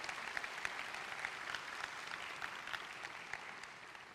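A church congregation applauds, a steady wash of many hands clapping at moderate distance with scattered sharper claps, continuing evenly throughout.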